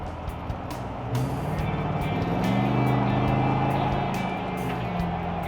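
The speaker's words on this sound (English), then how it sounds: "this exhaust sounds so good." A 2020 Chevrolet Silverado Badlander truck's exhaust gives a deep, steady rumble that swells in the middle as the engine revs, then settles back to a throaty idle. It is close and loud, with no talking.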